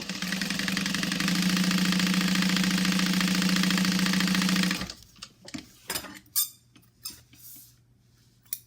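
A sewing machine top-stitches gusset pieces of a bag in one loud, continuous close-up run of rapid stitching, then stops abruptly, followed by quieter handling clicks and rustles.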